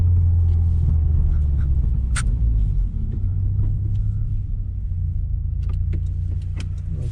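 2018 Subaru WRX with an Invidia R400 catback exhaust heard from inside with the windows up: a steady, subdued low engine drone and rumble, fairly quiet, with a few faint clicks over it.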